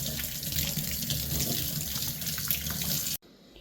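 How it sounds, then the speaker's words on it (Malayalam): Steady running water from a tap splashing into a sink as hands are washed, continuous and close, cutting off abruptly near the end. "കൈയൊന്ന് കഴുകട്ടെ കേട്ടാ"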